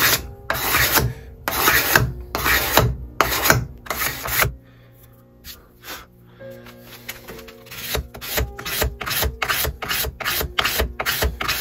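Rasping strokes of a file or rasp taking wood off an old wooden hand plane being restored, a steady run of close, loud back-and-forth passes, a short pause with lighter scraping, then brisk rapid strokes again.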